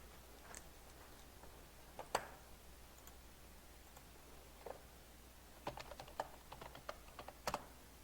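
Quiet typing on a computer keyboard in scattered bursts of light clicks and taps, with pauses between keystroke runs. No voices are heard.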